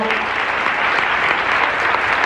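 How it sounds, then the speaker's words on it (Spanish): A university audience claps loudly and continuously to welcome Otto Sonnenholzner at a talk. The applause is dense and even, with no voices rising above it. "Así que nuevamente pido un gran aplauso para Otto."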